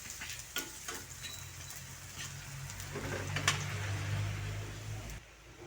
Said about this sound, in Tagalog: Siyempre, unahin natin yung bawang.